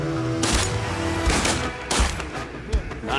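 Several shotgun blasts ring out in close succession during a Manitoba duck and goose hunt, loud sharp reports outdoors mixed with hunters' voices.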